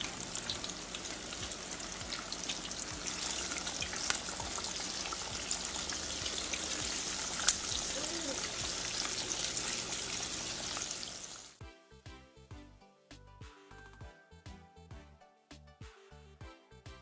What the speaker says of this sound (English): Here in my preheated oil, I will now add the fish and we'll let them fry until they are golden brown.